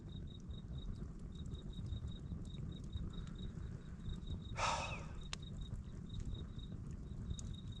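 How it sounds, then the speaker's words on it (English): Crickets chirp by a river on an evening with a near-full moon, a steady rhythmic trill over a low outdoor rumble, broken once by a short rustling burst. "Are the crickets going off in the background?"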